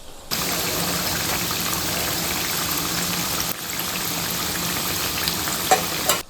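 Masala vada deep-frying in oil, a loud, constant rushing sizzle that dips briefly as a vada is flipped to the other side, then continues steadily with a couple of small clicks near the end.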